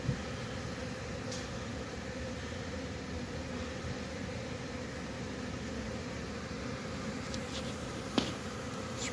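A low, constant hum of bees comes from a painted hive box as they fly in and out, with faint passing buzzes over the steady drone.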